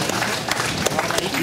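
Audience at a school-aid ceremony run by a town mayor breaks into loud, dense applause, continuous clapping with crowd murmur blended in, close and filling the whole moment.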